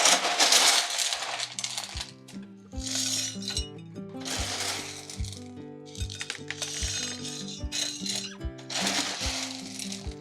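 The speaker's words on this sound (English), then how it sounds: "I'll just fill this pot up with a Leca" Leca clay pebbles tumbling into a plant pot in repeated bursts, a bright rattling clatter of hard little balls with ringing clinks, loud and close, pausing between pours, with no voices.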